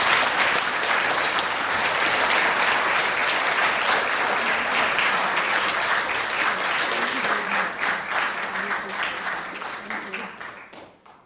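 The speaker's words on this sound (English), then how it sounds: "please give her a clap again" Sustained audience applause at a university inaugural lecture honours a new full professor, a dense wash of many hands clapping that holds steady, then thins and fades out near the end.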